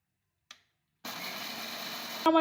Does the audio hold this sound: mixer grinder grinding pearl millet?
yes